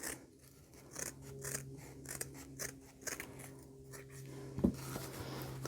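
Scissors snip through backdrop material in a run of short, close cutting strokes over a quiet room hum, with one sharper crunch near the end and no voices.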